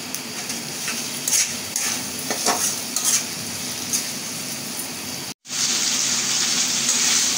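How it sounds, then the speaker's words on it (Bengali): Shrimp and spices sautéing in a pan for a Bengali shrimp dish with ridge gourd or mixed vegetables, a steady close sizzle with scraping stirs, briefly cut off before resuming louder. "আমার মশলাটা সুন্দর করে আমি কষিয়ে নিচ্ছি।"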